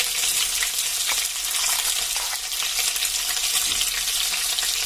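Steady loud sizzle of a chili, tamarind and jaggery paste frying with fried chicken for chicken thifala, with faint stirring and no talk.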